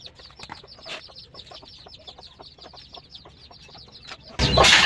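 Chickens and young chicks clucking and peeping in a busy, overlapping chorus while they are fed, with a sudden louder burst of noise in the final half-second.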